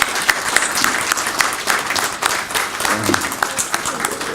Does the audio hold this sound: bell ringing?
no